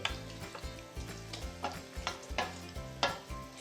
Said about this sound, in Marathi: मसाल्याला तेल सुटलेलं आहे ह्यामध्ये आपण घालणार आहोत मटण सर्व मी मटण जेवढं घेतलं होतं तेवढं सर्व घालून घेते